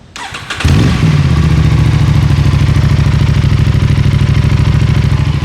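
Aprilia RS 457 fitted with a GPR full-system titanium exhaust with dB killer installed, cranking to life after a short starter whir, then settling into a loud, steady, close-up idle.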